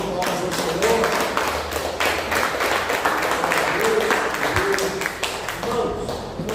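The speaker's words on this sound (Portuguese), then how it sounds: "Dê uma salva de palmas ao Senhor" A church congregation gives sustained applause in praise, with many hands clapping in a dense, continuous wash while voices call out over it.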